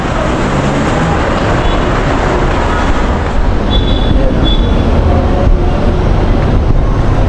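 Loud, constant rumble of an LRT light rail train at a station in Manila, dense low noise with faint high tones, no clear talking.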